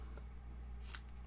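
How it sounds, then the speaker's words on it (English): A single close, crisp snip of craft snips cutting Whisper White flax ribbon, brief and sharp against a quiet low hum. "So I'm going to cut, where did I find my snips?"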